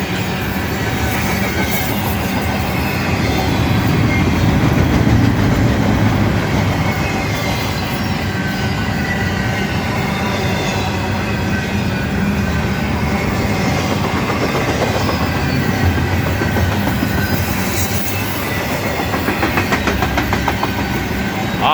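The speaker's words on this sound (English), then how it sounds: "faster train than before" A fast train rolls past a siding near Camden, Tennessee, a loud continuous roar of wheels and rail with steady clickety-clack and faint squeal, filling the whole stretch without letup.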